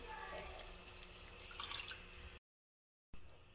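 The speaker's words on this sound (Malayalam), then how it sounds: "ഇതിലേക്ക് കുറച്ച് വെള്ളം എടുത്ത് ഈ പാത്രത്തിലേക്ക് തന്നെ ഒഴിച്ച്" Water is poured into a cooking pot while making Manjali biryani: a faint, continuous trickling splash for about two seconds, then a sudden cut to silence and a brief return.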